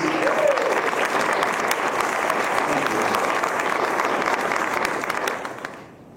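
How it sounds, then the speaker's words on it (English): An indoor audience claps steadily for about five seconds, a dense, full round of applause that fades out at the end. "Give her a round of applause, please."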